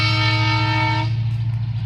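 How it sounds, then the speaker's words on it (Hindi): At a railway crossing, a loud sustained train horn blares for about a second before cutting off, leaving a heavy low rumble of the passing train close by. "गाड़ी आ रही है रेलगाड़ी"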